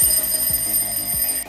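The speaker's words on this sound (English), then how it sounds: "Can you hear the alarm?" An alarm clock rings with a steady, piercing electronic tone that pulses in a quick repeating pattern, loud and close, then cuts off abruptly.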